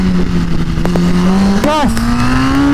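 A Yamaha go-kart engine screams at full throttle on the Sagittario Latina circuit, a loud close buzzing whine climbing in pitch with a brief warble from a gear or throttle blip, under a driver's talk.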